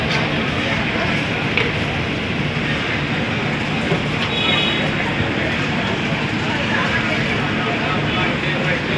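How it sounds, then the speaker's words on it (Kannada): A Chamarajanagar–Tumkur express train hauled by coupled WDP4D diesel locomotives rolls past, a steady loud roar of wheels and engine that fills the whole stretch without a break. "ಚಾಮರಾಜನಗರ ತುಮಕೂರು ಎಕ್ಸ್ಪ್ರೆಸ್ ಬರ್ತಿದೆ"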